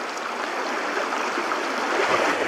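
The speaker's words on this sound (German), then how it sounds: "Ist doch ein Träumchen, wenn man hier so dran vorbeigehen kann, an diesen ganzen einzelnen Wasserläufen" Small streams flow beside a lakeside hiking trail at the Hennesee reservoir in the Sauerland, giving a steady close rush of running water with no talking.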